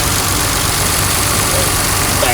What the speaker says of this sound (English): So we got our idling pretty good.